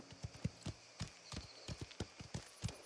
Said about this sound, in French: C'est ton cheval ou le leur?